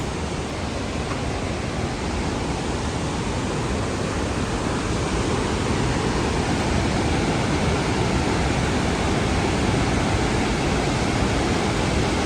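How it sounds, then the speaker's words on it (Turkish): The Iguazu waterfalls in Argentina, in green jungle, roar as a dense, unbroken wash of falling water, loud and steady throughout with no voices. "Yeşil, ormanın içinde şelaleler, cennet gibi bir yerdeyiz."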